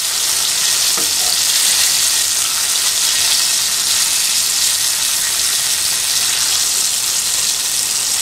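Eggplant slices fry in hot oil over a low gas flame, giving a loud, close, unbroken hiss and sizzle that holds steady for several seconds with no voices.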